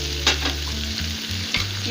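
Garlic and ginger paste sizzles steadily in hot oil while a spoon stirs and scrapes the pan in a few distinct strokes, close up, with no voices.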